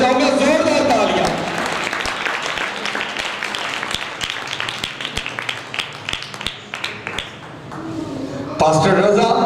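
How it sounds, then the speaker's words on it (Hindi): Applause from an audience at a church convention, a dense crowd clapping that swells, thins into scattered claps, then surges again near the end, with voices mixed in. "आपकी जोरदार तालियों में मैं चाहूंगा जोरदार तालियां"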